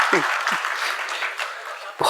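Brief burst of audience applause at a religious discourse during the Dasalakshan festival, a short wash of clapping with a voice breaking in near the end.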